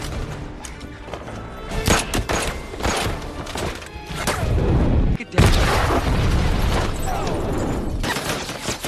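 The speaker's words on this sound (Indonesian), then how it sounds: "Sayangnya mobil mereka harus meledak akibat tadi tertembak." Loud booming blasts and crashing impacts as a car explodes after being shot in an action film scene, with a sharp cut partway through and dense roaring noise after.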